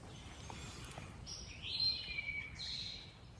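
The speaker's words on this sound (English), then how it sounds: "I'm sitting here in my tent just listening to the birds." Faint birdsong outdoors, heard from inside a tent on the Appalachian Trail: thin high chirps and trills drifting over a low rumbling background, gentle and distant.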